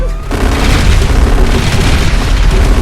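A loud, sustained blast rumbles through a video game, a heavy boom with dense low-end roar and crackling debris that fills the whole span without letting up.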